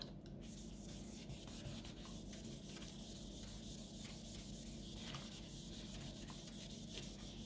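Soft, steady rubbing of a cloth buffing the screen of an Amazon Fire HD 8 tablet after an IPA wipe, a quiet continuous swishing with faint repeated strokes and no talk.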